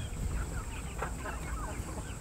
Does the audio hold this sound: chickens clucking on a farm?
yes